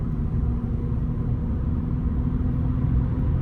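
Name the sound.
Ford F-150 truck engine accelerating while towing gooseneck trailer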